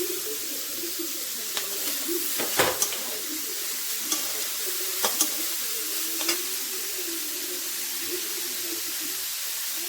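Cabbage and spring onion stirring and frying in a pan for momo soup, a steady soft sizzle with a few sharp scraping clicks of the utensil against the pan, close and alone throughout.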